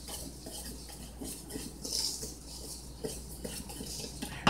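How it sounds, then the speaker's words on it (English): Sugar and salt get whisked together in a bowl for yeast rolls, a brief close run of quick metallic scraping and light clinks against the bowl that ends with a louder knock, with no voices. "And I'm going to whisk that together."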